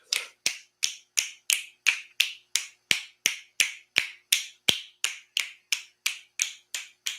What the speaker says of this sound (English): Every time I snap my hands, you're welcome to join me with snapping your fingers.